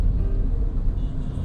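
Low rumbling from a gas mobile repair van's wheel while driving, a steady dense road roar and drone dominating the short stretch, with no talk.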